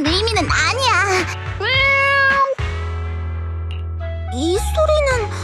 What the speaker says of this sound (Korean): 소리는 네코마타가 진짜 고양이로 변한 거야?